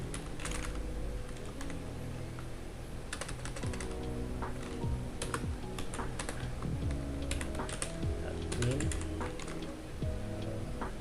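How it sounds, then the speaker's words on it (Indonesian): Steady, close typing on a computer keyboard, rapid clicky keystrokes continuing throughout with brief irregular pauses, over a faint mechanical background hum and with no one talking. "Kita ketik sini role"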